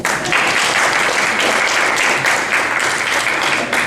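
Audience applause at a school district meeting, a steady, dense wash of clapping that fills the whole stretch at close range with no talk over it.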